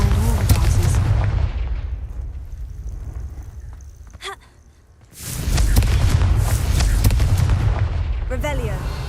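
Confringo blasting spells in Hogwarts Legacy go off as heavy booming bursts with rumbling low end, one volley, a brief quiet gap, then another, under a character's spoken incantations.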